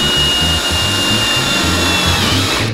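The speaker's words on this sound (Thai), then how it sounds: "ตัวโซลาร์เซลล์นะครับผมก็จะเจาะน็อตนะครับติดกับตัวโครงเหล็กของผมตรงนี้ฮะ" Power drill driving bolts to fix a solar panel onto a steel frame: a loud, steady motor whine with a choppy, pulsing low-end chatter throughout, ending in a brief rise.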